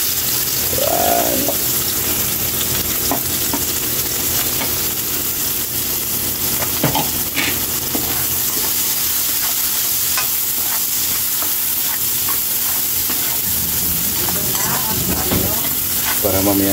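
Onions sizzle steadily in hot oil in a pan while tilapia is being cooked, with a continuous loud frying hiss, occasional stirring clatter and faint background chirps, no talking.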